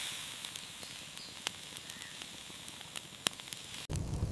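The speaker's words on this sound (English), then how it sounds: "The fire burns the bamboo, steaming the rice inside." Fresh bamboo tubes filled with rice roast over charcoal, giving a soft, steady crackle with sparse sharp pops and a constant hiss, ending in a louder rushing burst.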